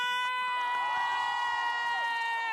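A crowd of activists on outdoor steps at a rally cheers and shouts loudly and continuously, with a sustained high-pitched whistle or shrill tone running through the mass of voices.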